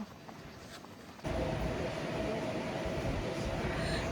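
A train rumbles loudly past in Tokyo after a quieter first second, a steady broadband roar with a faint tonal hum running through it.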